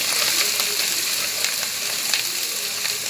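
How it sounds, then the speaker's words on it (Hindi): Garlic and ginger fry in a couple of spoons of hot oil, giving a loud, steady sizzle with bright crackling spatters throughout and no voices. "इसमें लहसुन जाएगी 2 चम्मच ऑयल में, अदरक लहसुन ये जाएगा"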